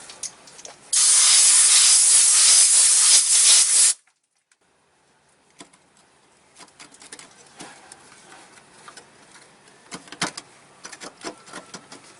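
Compressed air blasts debris off the fuel pump area of a '99 GM pickup, a loud, steady hiss of about three seconds, followed by quiet clatter and handling noises.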